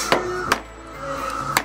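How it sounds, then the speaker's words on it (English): Three sharp, close hammer blows drive staples into a wooden rabbit hutch, spaced unevenly with short pauses between them. "After stapling them down, you may need to hammer them down too."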